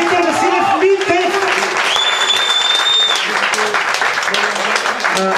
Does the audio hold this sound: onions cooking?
no